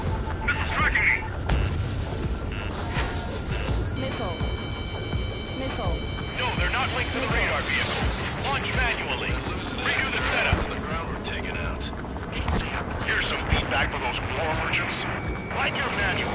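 Missile explosions and jet combat in the video game Ace Combat 7 on PS4 Pro, with booming blasts and roaring aircraft layered over warning tones, while voices talk throughout.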